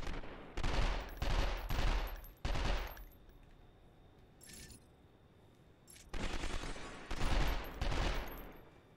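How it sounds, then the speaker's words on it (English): Shooting in 24: The Game, several loud bursts of rapid automatic gunfire in two clusters separated by a quiet stretch with a faint metallic clink. "I just love this game shooting"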